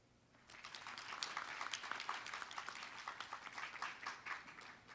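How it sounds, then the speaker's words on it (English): An audience at a bio summit applauds a moderator, a dense, steady round of clapping that starts abruptly, holds for several seconds and tapers slightly, moderately distant and quiet. "Hatchett with a big round of applause"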